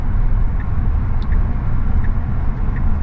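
Steady broadband road noise from a car cruising on a Pennsylvania highway, a continuous low rumble with tyre hiss that holds level throughout, with no voices.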